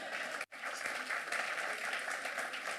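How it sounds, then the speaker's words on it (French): A church congregation applauding during worship, steady, full applause that keeps going throughout with one very short break near the start. "on acclame Jésus."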